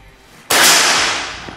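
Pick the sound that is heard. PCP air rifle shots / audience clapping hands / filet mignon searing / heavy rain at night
PCP air rifle shots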